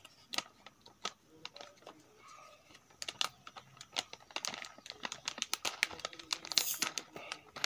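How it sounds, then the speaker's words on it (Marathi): A seed packet for ridge gourd is torn open by hand, giving irregular close crinkling and ripping bursts of paper or plastic that grow busier and louder toward the end, with no speech. "एका कडीने पॅक फोडूया हे आपण."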